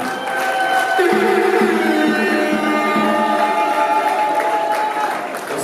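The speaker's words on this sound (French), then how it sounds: "je voudrais vous demander un tonnerre d'applaudissements pour le marié" Wedding guests applaud the groom in a sustained, loud burst of clapping mixed with crowd noise, with tonal music lines running beneath.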